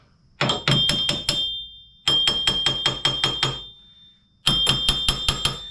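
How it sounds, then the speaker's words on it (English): Hammer strikes driving a wheel bearing into a 2006 Chevy HHR, three bursts of four to six sharp ringing metallic taps each, close and loud with no talking. "Let's try a little tap, tap, taparoo. Just tap it in."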